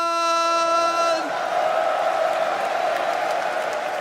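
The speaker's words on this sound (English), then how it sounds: "Est-ce que je peux avoir du bruit pour Markman?" A crowd at the Evo France fighting-game event in Nice applauds and cheers after a sustained musical tone cuts off, a broad, steady wash of clapping and shouts that continues to the end.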